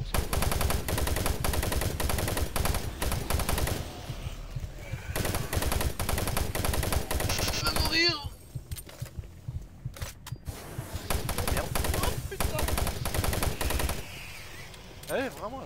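Rapid automatic weapon fire from Doom 3 hammers out in dense, loud bursts, with short pauses between volleys and some game noise in the gaps.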